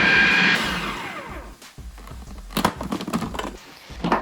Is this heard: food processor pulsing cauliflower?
yes